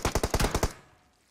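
M4 rifle gunfire in a video game, a rapid burst of about seven loud, close automatic shots in quick even rhythm, ending in a short fading tail.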